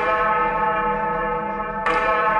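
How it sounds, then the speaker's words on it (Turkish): A rusty old bell rings with a high, metallic tone, its sustained harmonic ring holding steadily before a sharper, brighter strike near the end, loud and alone with no voices. "Binayı inleten tiz ve metalik bir ses, paslı zilin çan sesi kulaklarımızda patladı."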